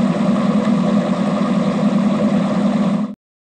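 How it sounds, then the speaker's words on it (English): Futuristic vehicle engine effect built from a looped air conditioner hum passed through a metallic resonator, a loud steady droning idle that holds evenly for about three seconds before cutting off abruptly. "First I made a looping sound out of the air conditioner and sent it to a resonator plugin that'll give it a metallic ring"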